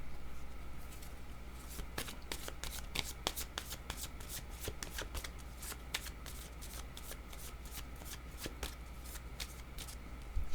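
Cards being shuffled for a card reading, a dense run of crisp riffling flicks and taps close by, continuous and fairly quiet over a low steady hum.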